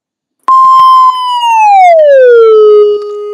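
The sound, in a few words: fire truck siren passing, pitch dropping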